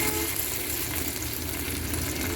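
Spiced rohu fish pieces frying lightly in a pan, a dense, loud, continuous sizzle heard up close with no pauses.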